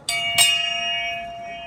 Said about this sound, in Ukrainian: дзвоник.